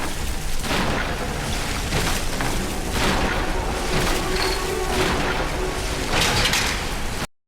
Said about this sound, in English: And then I blew him up.